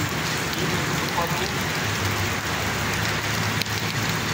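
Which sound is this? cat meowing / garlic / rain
rain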